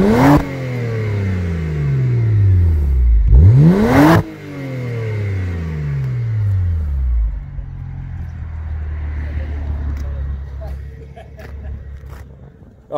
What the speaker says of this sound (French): Tu peux me mettre vite fait des petits coups de gaz pour avoir le son moteur